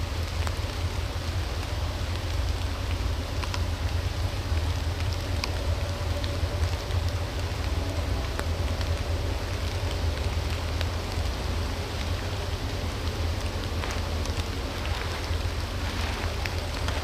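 Rain falls steadily in the woods during a Pennsylvania archery deer hunt: an even, continuous patter with scattered sharper drops and a low rumble beneath, with no talk.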